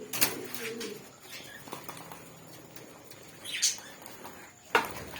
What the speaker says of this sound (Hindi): अभी चिड़िया को दिखाता हूँ।